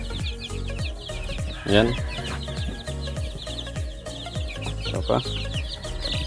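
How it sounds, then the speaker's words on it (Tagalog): A flock of young chicks, ten days into being raised, peeps in dense rapid chirps close by. Someone speaks briefly over them. "Ito na sila mga ka-chicken, yung ating mga sisiw."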